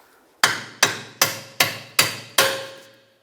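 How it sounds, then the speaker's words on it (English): Six sharp metallic hammer blows in a steady rhythm, driving a bolt through a rear shock absorber strut on a 2007-2010 Chrysler Sebring, each ringing briefly before the next, close and loud with no talking. "I'm going to use my hammer and drive the bolt through"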